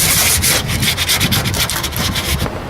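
Abrasive sanding scrapes metal around welds on a Mercedes G-wagen body panel, loud close-up rasping in quick repeated strokes.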